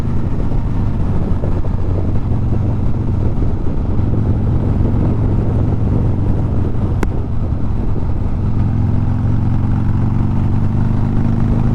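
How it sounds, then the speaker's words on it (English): A Harley-Davidson Sportster 883 motorcycle idles with a steady, low engine rumble, wind buffeting the microphone, loud and close throughout. "There ain't nothing better than the Harley sound,"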